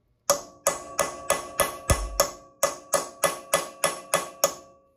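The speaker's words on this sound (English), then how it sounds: "Just to try and hammer flat" About thirteen sharp, evenly spaced hammer blows ring out close by, striking a 5mm punch held against a broken exhaust stud to flatten its surface.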